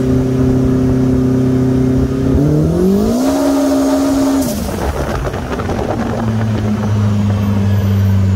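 Turbocharged Polaris RZR Pro R side-by-side with a LaRue Performance turbo kit and stand-alone ECU making 425 HP, its engine droning loud and close, rising in pitch through gear changes, then easing off with a rough rumble.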